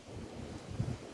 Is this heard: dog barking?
no